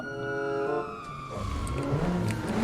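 Police car siren wailing during a police chase in a video game, loud and continuous with rising and falling pitch sweeps over rumbling engine and road noise.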